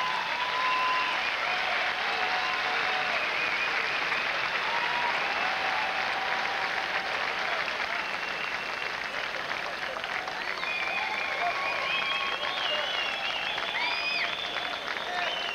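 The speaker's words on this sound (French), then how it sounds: "Un record de la Ligue qui vaut des applaudissements." Sustained audience applause honoring a group of Stanley Cup champion hockey players, loud and steady throughout with a dense wash of clapping and some crowd voices mixed in.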